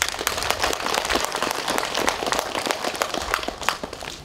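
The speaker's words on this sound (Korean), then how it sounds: "우리 한번 박수 한번 칩시다." At a memorial ceremony for President Park Chung-hee at Cheongungak in Mungyeong, an outdoor audience claps together in brisk, dense applause that carries steadily from start to finish.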